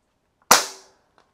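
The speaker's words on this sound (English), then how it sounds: "To fire, we're gonna go ahead and put the safety off and gently squeeze the trigger." A Nomad II high-power air rifle fires a single sharp, loud shot that decays quickly, with faint mechanical clicks just before and after the report.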